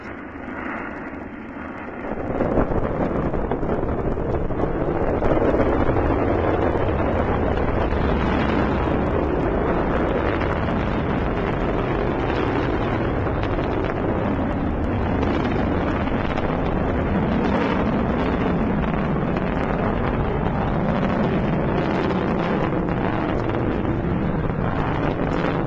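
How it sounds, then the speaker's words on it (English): A Delta rocket carrying the GLAST gamma-ray telescope ignites and lifts off, the engines bursting into a loud, broad, sustained roar after about two seconds and rumbling continuously, heard from a distance. "Engine start. 1, 0, and liftoff of the Delta rocket carrying GLAST"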